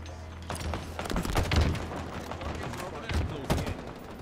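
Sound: gunfire in video game Halo Infinite

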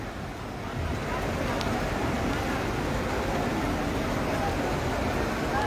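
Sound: heavy rain on a flooded city street

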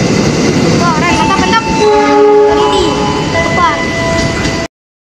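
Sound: train passing through station with horn

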